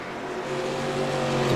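Race truck engine in a PSRA Truck Series race at New Hampshire, a steady loud roar that rises slightly in pitch as it works through clutching, with no talk.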